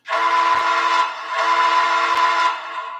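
A model train layout's sound-system whistle sounds twice in quick succession, a bright steady tone, loud and close, with no talking.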